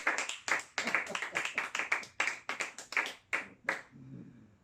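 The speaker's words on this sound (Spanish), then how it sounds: "Démosle un aplauso al Señor." Clapping in a church service during preaching, a few hands striking sharply and close in an uneven run of claps that trails off into quiet near the end.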